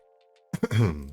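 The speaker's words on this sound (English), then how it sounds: "Sorry for the cough." A single close throaty cough, a short double burst clearing the throat, after a faint steady hum.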